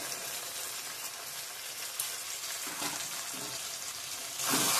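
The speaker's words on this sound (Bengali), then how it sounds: "সব মশলা দিয়ে দিচ্ছি, ভালো করে কষিয়ে নেব।" Chili, coriander and cumin powder fry in a pan with a steady, dense sizzle, scraping stir noises breaking through now and then, and the hiss swelling louder at the very end.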